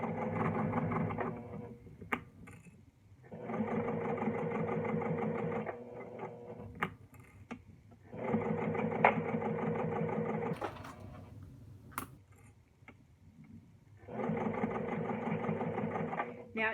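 A sewing machine back stitches a bag seam in several bursts of fast, even whirring separated by short pauses, close and fairly quiet, with small clicks between runs.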